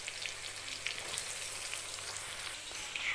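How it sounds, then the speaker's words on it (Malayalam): Onions sizzle steadily in hot coconut oil in a pan for crab curry, an even hiss with fine pops throughout, close and uninterrupted by voices. "സബോള ഇട്ട് കൊടുത്തിട്ടുണ്ട്"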